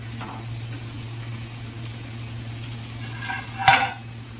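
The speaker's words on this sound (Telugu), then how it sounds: "కొంచెం పచ్చివాసన పోయేదాకా ఫ్రై చేసుకోండి" Ginger frying in a pan in a small kitchen: a soft, steady sizzle over a constant low hum, ending with a single sharp clank of a utensil against the pan.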